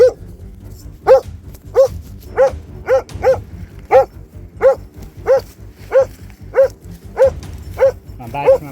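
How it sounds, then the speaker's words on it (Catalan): A shepherd dog barks aggressively at close range, about fifteen loud sharp barks in a fairly regular rhythm with brief gaps between them. "ha saltat i ha començat a bordar, però a saco, molt agressivament"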